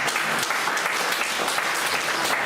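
An audience applauds a singer at a folk music and song gathering, dense sustained clapping from many people throughout, loud and close.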